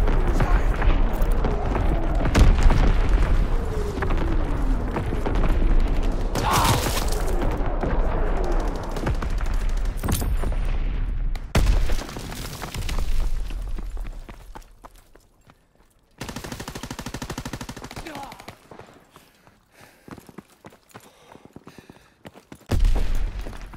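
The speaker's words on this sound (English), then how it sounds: "Firing primary battery. Target position confirmed. Fritz X bomb mission underway." Naval battery fire and Fritz X guided bomb explosions in the Call of Duty WWII video game, with loud, dense booming and rumbling blasts early on, then quieter gaps broken by further heavy impacts.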